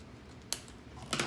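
Two brief crisp snips of scissors cutting ribbon or wrap for a fall Dollar Tree container and flower arrangement, quiet and close, with a short pause between cuts and no talk.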